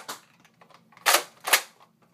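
A gunshot fired in a staged gangster skit, heard as a small crack followed by two sharp, loud, popping bangs about half a second apart, each dying away quickly against near silence.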